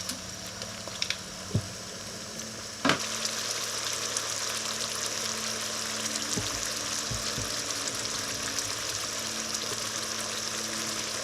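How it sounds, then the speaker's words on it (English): Garlic paste and basic soup ingredients for Tuscan bean soup fry steadily in a pan, a continuous soft sizzle running throughout with a few light clicks and taps of utensils, no talking. "we fry these for 5 minutes"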